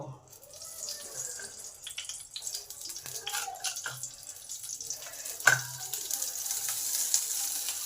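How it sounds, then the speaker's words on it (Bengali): Eggplant pieces frying in oil in a pan, a moderate crackling sizzle with scattered clatters and utensil knocks, faint voice in the background. "এবার বাকি বেগুনগুলোকে ভাজা করে নেব"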